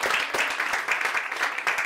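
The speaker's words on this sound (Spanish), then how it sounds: "Dale un fuerte aplauso al Señor." Spanish-speaking church congregation giving a strong round of applause to the Lord, a dense even wash of many hands clapping close by, brief and continuous with no speech.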